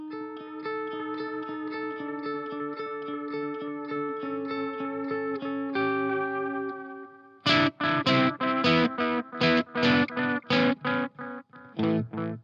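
Electric guitar through a Way Huge Echo-Puss delay pedal set as a straight delay: sustained chords ring out with echoing repeats, then a run of sharp, punchy strummed stabs, loud and alone.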